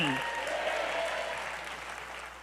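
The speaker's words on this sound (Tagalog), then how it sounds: "Pumalakpak nga po at sumigaw ng Amen!" Church congregation at a midweek prayer gathering applauding and calling out, a steady, full wash of clapping and voices that tapers gradually, with a falling tone briefly audible at the start.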